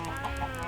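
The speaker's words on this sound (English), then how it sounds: "over here we have a lot of chickens" Chickens in a video game cluck in a steady, overlapping chorus, moderately close, with no voices present.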